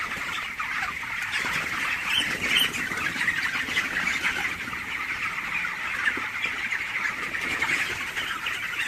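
A crowd of 22-day-old broiler chickens at their feeders squawks and chirps in a dense, constant chorus, near and steady with the rustle of birds moving, no talking.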